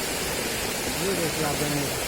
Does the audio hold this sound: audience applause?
no